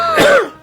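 A single short cough or throat clear from a man in a comedic Noakhali village drama, close and brief.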